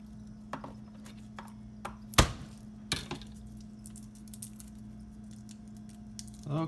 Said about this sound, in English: garlic chopping again. You can keep it big, but I'm gonna keep it small. So finely